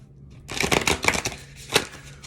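A deck of oracle cards being shuffled, several quick riffling bursts and soft snaps close up, with a brief pause before a final sharp flick.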